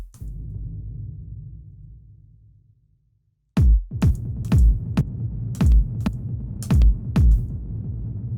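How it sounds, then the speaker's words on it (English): A low droning tone fades to silence, then punchy electronic kick drums hit in a quick syncopated pattern, loud and close. "So I'm just going to add a little extra kick pattern."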